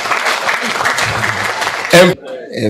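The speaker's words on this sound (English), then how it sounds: "if you want to clap for your manager, please clap for me now." Clapping from an audience at a credit union annual general meeting, an even wash of hands lasting about two seconds, then cut off by a brief louder voice and a quieter speaking voice.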